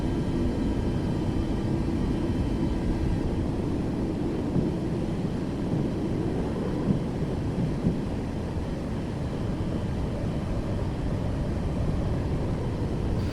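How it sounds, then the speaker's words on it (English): A jet airliner taxis toward its gate after landing at Fort Lauderdale, heard from inside the cabin as a steady, loud low engine rumble and hum with faint rattles, continuous throughout. "So now what we're gonna do is we're gonna start taxiing over to our gate."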